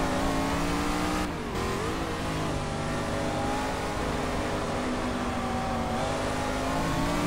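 A De Tomaso Pantera's engine in the GT Legends racing game drones steadily at high revs, with one brief dip as it shifts up into third, then pulls on strongly.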